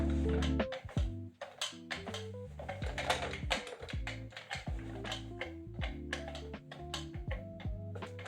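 A fully loaded push-feeding airsoft magazine rattles inside the replica, giving off a dense run of quick clicking and ticking taps, close and fairly loud, with no talking over it.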